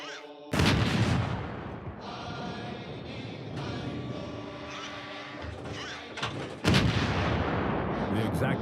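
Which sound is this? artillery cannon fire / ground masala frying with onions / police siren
artillery cannon fire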